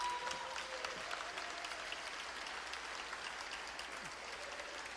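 Audience applause welcoming a special guest at a State of the State Address, steady broadband clapping sustained across the whole stretch at moderate, even loudness without voices.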